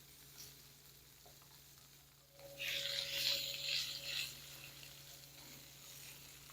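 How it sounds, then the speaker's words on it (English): Chicken searing in a hot pan on an electric stove, a bright sizzle that rises partway through and holds steady, close and moderately loud with a faint background hum. "You want to hear that sizzle."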